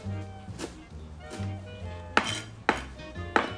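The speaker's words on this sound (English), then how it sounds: "Then we're gonna do the parsley, just roughly chopping it" Knife chopping parsley roughly on a board in a home kitchen, sharp clacking strikes at uneven intervals, several spaced taps then a few louder close chops, over faint background hum.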